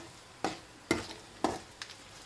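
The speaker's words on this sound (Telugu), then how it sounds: "తాలింపు" Garlic for a tempering hits hot oil in a steel pan, giving a few sharp sizzling bursts with short pauses between them. The sound is fairly quiet and close, and no one speaks.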